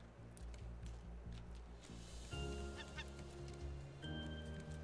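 Repeated goose-like honking calls from a bird in the video game Raft, several harsh honks in a row over a low engine hum, fairly faint.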